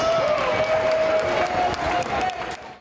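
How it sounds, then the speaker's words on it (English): A crowd at a high school athletic signing day applauds steadily and loudly, with scattered cheers mixed into the dense clapping throughout. "One more huge round of applause for our 2025 spring signing class."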